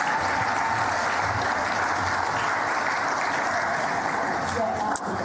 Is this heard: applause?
yes